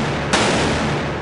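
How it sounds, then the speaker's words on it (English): Cannon fire in a naval battle, a dense roaring blast that holds loud and sustained, with a sharp crack partway through, heard alone without talking. "blasting away with their cannons."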